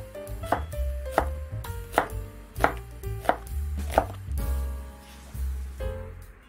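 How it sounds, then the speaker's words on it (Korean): A knife chops half an onion and green onion on a cutting board, six or seven evenly spaced, crisp, close thuds followed by softer scraping sounds, with no speech. "양파 반개도 먹기 좋은 크기로 잘라주고요."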